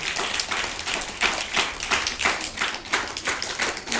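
Students and staff at a primary school farewell applaud a teacher with rhythmic, steady group clapping, a fairly even pulse of hand claps that continues from start to finish.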